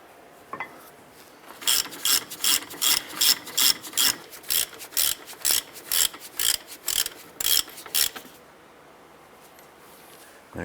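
A ratchet tightens the caliper bracket bolts on a 2005-10 Jeep Grand Cherokee front brake, giving a run of about fifteen quick, loud rasping clicks in even bursts. Short pauses follow before and after, and no voice is heard.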